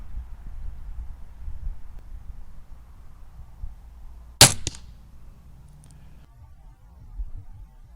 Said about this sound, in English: Checking for impact point, and then let's shoot the broadhead.